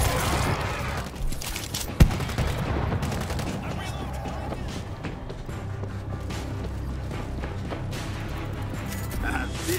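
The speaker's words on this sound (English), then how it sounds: "Mortars ready to fire." Mortars and gunfire in the zombie shooter World War Z on the Jerusalem Dead Sea level, a sharp blast early on followed by dense rattling fire and mechanical clatter, with a voice briefly underneath.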